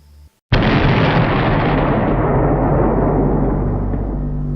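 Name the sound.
explosion destroying the Hellgate fortress, from a video game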